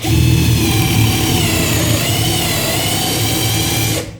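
A Parkside cordless drill, the 12 V PABS 12 B2 or the 20 V PABS 20 LI C3, runs on drill mode at speed setting 19, giving a loud, steady whine that holds for about four seconds before cutting off abruptly.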